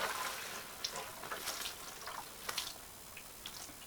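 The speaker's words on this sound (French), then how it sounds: "là on arrose" Water poured onto freshly sown spring leek seed in a garden bed, a soft irregular patter of drips and splashes that starts louder and thins to scattered droplets, close by with no talking.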